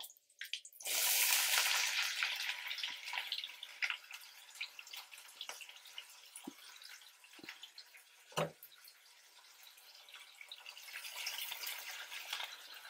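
Onions and curry leaves sizzling in hot oil for a bitter gourd fry, a loud hiss at the start that settles into soft, scattered crackles and pops, close and without talk.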